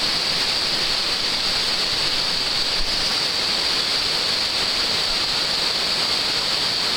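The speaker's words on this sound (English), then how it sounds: "Water's just rushing by." Water rushing steadily about five feet below, a continuous loud broadband roar like a stream or small waterfall, unbroken for the whole stretch with no voices.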